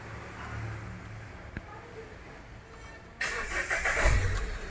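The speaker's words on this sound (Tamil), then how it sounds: "ஸோ வண்டி பக்காவாக ஸ்டார்ட் ஆகிடுச்சு." A car engine starts after its battery is reconnected. Quiet background at first, then a sudden cranking catch and the engine idling up near the end, fairly close.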